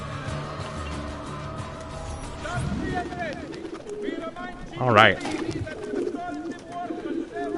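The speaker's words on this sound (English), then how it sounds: "The adorable pigeon." A pigeon coos in Assassin's Creed 2, with soft repeated calls and a brief louder flutter of sound, mixed with game ambience while a person talks.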